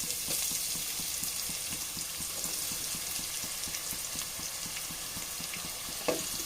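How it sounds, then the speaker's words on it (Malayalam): Chopped onions dropped into hot sunflower oil in a kadai, a dense, even hiss of frying with a steady, rapid ticking rhythm underneath and a single sharp clatter near the end, close and moderately loud. "ഓയിലിപ്പോൾ ചൂടായി വന്നിട്ടുണ്ട്. ഇതിലേക്ക് നമുക്ക് നേരത്തെ കട്ട് ചെയ്ത് വെച്ചിട്ടുള്ള സവാള ചേർത്ത് കൊടുക്കാം."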